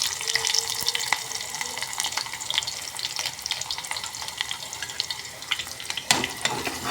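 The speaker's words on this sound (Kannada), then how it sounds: "ಸ್ವಲ್ಪ ಫ್ರೈ ಮಾಡೋಣ ರೀ." Onions frying in a pan with green chillies, a steady dense sizzle of hot oil running throughout with brief stirring clatters, close and fairly loud, no talk over it.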